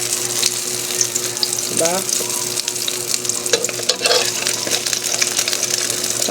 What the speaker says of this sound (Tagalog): Pinirito muna yung talong na half cook.